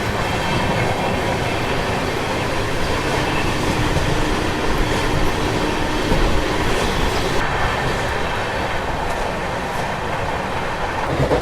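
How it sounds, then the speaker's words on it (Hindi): The Jaipur to Mumbai Superfast Express 12956 rumbles steadily along the tracks, heard from on board with a continuous loud roll, wheel noise and faint rhythmic clatter throughout. "चलिए फिलहाल अपनी ट्रेन जो है निकल चुकी है जयपुर जंक्शन से करेक्ट 2 बजे"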